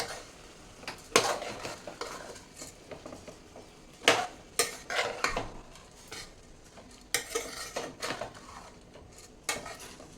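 Basmati rice is mixed in a pot, making irregular scraping strokes and sharp metallic clinks of a spoon against the pot, close by and fairly quiet, with short pauses between bursts.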